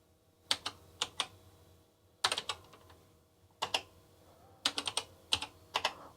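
Keys clatter on a BBC Micro retro computer keyboard in short bursts of typing, crisp close clicks grouped in quick runs separated by brief pauses, with no speech.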